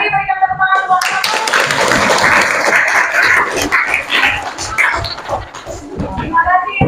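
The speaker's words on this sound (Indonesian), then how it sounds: "Oke, berikan tepuk tangan buat kamu." Classroom applause for a student presentation group, a dense burst of hand clapping from many students that swells after a brief voice and fades toward the end, with talk at the start and close.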